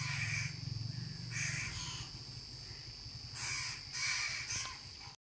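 Several crows caw repeatedly in bursts near a home, loud and close, with harsh calls recurring through the stretch and a steady low hum underneath.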